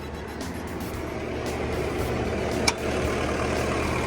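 A Komatsu WA150-5 wheel loader's turbocharged four-cylinder engine idles close by, a constant low rumble with a brief sharp click partway through and no talking.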